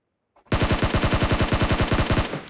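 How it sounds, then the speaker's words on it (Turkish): A single close, loud burst of rapid automatic fire from a PUBG Mobile firefight, with evenly spaced shots rattling for about two seconds before cutting off. "Hemen önümde çatışma var."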